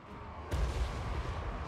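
Dwarf organ guns firing as artillery in the strategy game Total War: Warhammer 3: a sudden sharp blast followed by a rumbling, sustained roar of battle noise, dense and mid-distance, with no talk over it.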